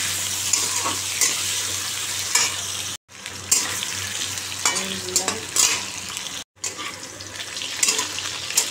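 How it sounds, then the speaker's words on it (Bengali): Two small cut potatoes fry in hot oil in a home kitchen pan, giving a steady close sizzle with stirring scrapes and splatter bursts, broken by two brief silent cuts. "ভালো করে ভেজে নিলে আলুটা"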